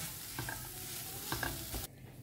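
Ground green peas frying on high flame in a pan give a steady sizzle, broken by a few quick spatula scrapes and stirs, close by, before the sizzle drops away near the end.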